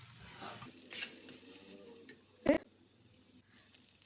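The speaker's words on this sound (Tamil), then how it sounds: "நல்லா கிளறி விட்டுக்கோங்க." Fruit rava kesari with chopped dates is stirred in a pan, giving a soft sizzle and light scraping, with one brief louder clack of the utensil against the pan partway through.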